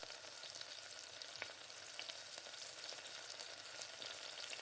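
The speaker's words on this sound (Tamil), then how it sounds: "வதக்கிக்கிட்டே இருங்க. ஸ்டவ்வை நல்லா கம்மி பண்ணி வச்சுருங்க." Ground onion paste sautés in a pan for Tamil mutton kulambu, giving a steady, moderately quiet sizzle and crackle that runs unbroken throughout, with no voices.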